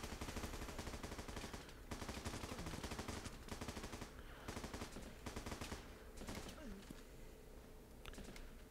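Sustained rifle gunfire in the game Running With Rifles, dense and loud, with near-continuous bursts across the whole stretch and a few short lulls.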